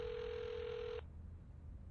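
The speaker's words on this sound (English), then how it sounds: "Your phone is ringing" A telephone rings with a steady electronic tone for about a second, then cuts off, leaving a low room hum.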